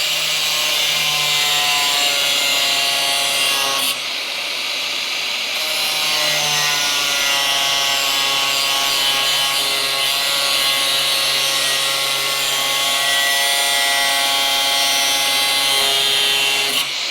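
A car frame rail being cut off during a Crew Cab Charger restoration, a loud, steady, continuous grinding-saw cut with a high whining tone, a brief pause near four seconds, then resuming and running on without talk.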